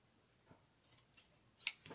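Scissors snip a small craft embellishment for a paper envelope, a few faint, quick cuts with a sharper snip near the end, quiet and close.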